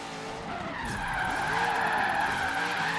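Stock Corvette Z06 Horizon Edition with Drift Skills Boost, sliding downhill in Forza Horizon 3: sustained tire skid and squeal over a steady engine roar, building slightly louder through the three seconds, no talk.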